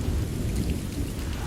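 Heavy rain pounding down during a thunderstorm, with deep rumbling thunder rolling underneath a dense, constant patter; no one speaks.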